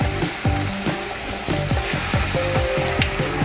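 Fish fillets sizzle loudly in a frying pan, a dense hiss broken by quick repeated scraping and tapping knocks of a utensil against the pan.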